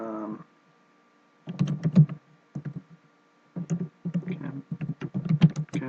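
Typing on a computer keyboard, with bursts of close, sharp key clicks separated by short pauses and a faint steady hum underneath.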